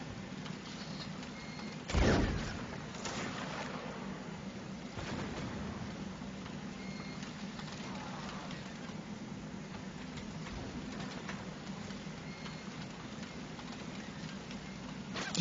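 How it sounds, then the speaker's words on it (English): Steady rain drumming on a roof during a livestream, a continuous even patter with low rumble and a sharp thud near the start, no voices over it. "Interesting how you can hear the rain on the roof,"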